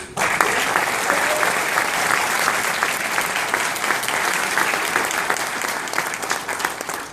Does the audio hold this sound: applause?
yes